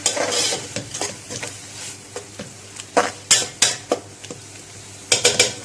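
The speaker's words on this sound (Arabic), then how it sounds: "كده شوحت البصل مع الزيت" Onions sautéing in oil in a pan, sizzling steadily while a spoon stirs and scrapes with a series of sharp, close clinks, heavier toward the end; no one speaks.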